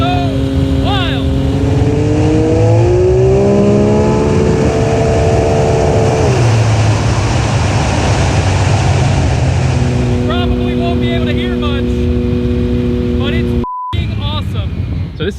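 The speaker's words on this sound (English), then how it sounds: "This is like a 3-cylinder, right? 3-cylinder, 900cc engine, making a lot of power." A turbocharged 500 hp Can-Am side-by-side with a three-cylinder 900cc engine accelerates hard on the street, loud and close, its revs climbing through gears in rising whines, then easing and rising again.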